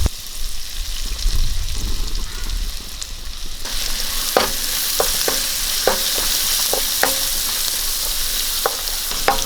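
Chopped onion hits a hot pan for prawn fried rice, a low rumble giving way to a bright, loud sizzle, with a series of sharp spatula scrapes and taps while stirring, no talk.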